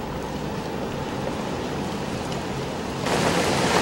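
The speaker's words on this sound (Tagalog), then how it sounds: "medyo humina na nga yung ulan at hangin na nararanasan natin dito ngayon" Steady, dense rain with wind noise during Typhoon Lando in Baguio City, a constant broad wash that swells slightly louder near the end, with no voices.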